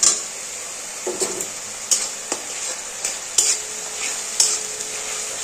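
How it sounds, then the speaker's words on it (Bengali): Chopped tomatoes fry in an oily pan with a ginger, garlic and onion paste, producing a continuous soft sizzle while a utensil scrapes and taps against the pan at irregular intervals. "এটা ভাজা ভাজা হয়ে গেছে, এবারে টমেটো কুচি দিয়ে দেবো।"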